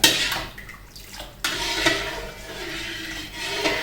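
Water splashes and pours into a metal pot while making red pork sauce, with clinks of cookware and a steady running gush.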